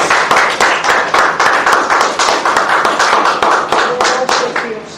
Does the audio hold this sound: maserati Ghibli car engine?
no